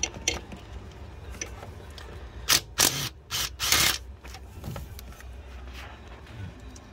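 A ratchet works loose an 8mm bolt on the turbo of a Ford 6.0 Powerstroke diesel, giving a few close clicking bursts over quiet shop background.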